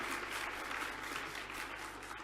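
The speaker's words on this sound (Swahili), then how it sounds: "Kwa dhati ya moyo wangu naomba tena tujipigie makofi mengi kwa uwepo hapa" Audience applause at a public gathering, steady dense clapping from a crowd heard at moderate distance, continuing evenly with no voices over it.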